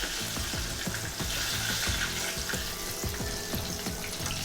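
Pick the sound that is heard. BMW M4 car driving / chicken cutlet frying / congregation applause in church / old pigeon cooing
chicken cutlet frying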